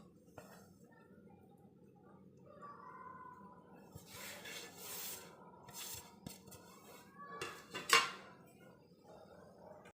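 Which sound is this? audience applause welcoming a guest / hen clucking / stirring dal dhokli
stirring dal dhokli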